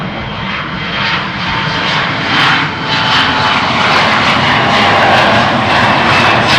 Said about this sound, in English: Rotation for this Embraer.